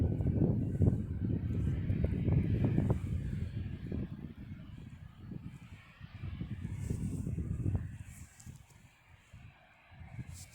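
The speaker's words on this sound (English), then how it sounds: "we've actually got another 737 that's coming to land" A Boeing 737 comes in to land, its engine roar swelling and fading as a low rumble, with faint birdsong outdoors in the background.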